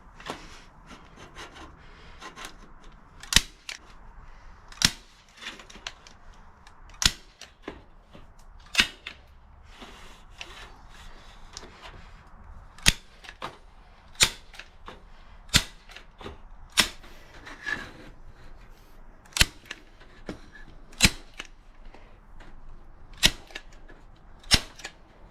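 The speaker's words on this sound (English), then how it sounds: "I'm going to staple down each side first and then do this side." Staple gun driving staples to fasten a cut soil sifter screen to its wooden frame, about fifteen sharp snapping shots spaced one to two seconds apart over quiet handling noise, close and loud.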